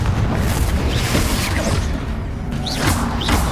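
A Confringo fire spell explosion in Hogwarts Legacy, a loud, dense booming roar that holds steady throughout, with whooshing swirls over the top and no talk.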